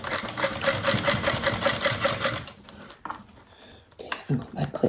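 A sewing machine runs fast and close, its needle chattering in an even rapid rhythm while sewing a back stitch, then stops, leaving softer handling noises and faint movement.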